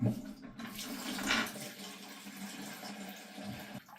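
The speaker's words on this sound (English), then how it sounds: "now we're going to remove the bolt, and the water's going to pour out" Water gushes and splashes out of a toilet once a bolt is removed, a steady close rushing flow that strengthens briefly before tapering toward the end.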